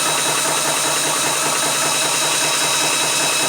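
A Vevor PCP 4500 PSI high-pressure air compressor runs up near 3,400 PSI, giving a loud, steady mechanical drone with a fine, rapid pulsing chatter that never lets up, close by and alone.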